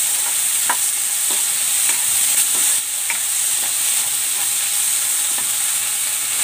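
Onion and tomato sizzle steadily in a hot pan, a dense continuous frying hiss with occasional soft stirring scrapes, close and loud, no voices.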